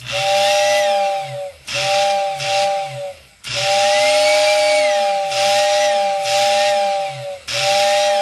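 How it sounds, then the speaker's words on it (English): A Lionel 6466WX toy train whistle tender blows loudly in repeated long, breathy toots, each a steady tone over hissing air, separated by short gaps. "Now let's see how your whistle tender goes."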